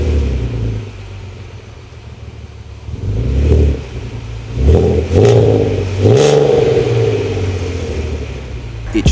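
An Audi TT with a VR6 engine revs hard in a few sharp bursts over a rumbling idle, giving a raspy, rattly tone with crackles between the blips, close and loud.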